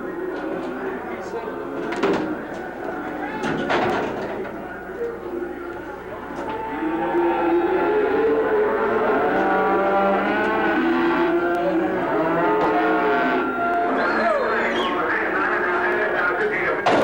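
Cattle moo and low at a livestock auction, with several drawn-out calls rising over a noisy barn backdrop, while people talk nearby and occasional knocks and clatters break through.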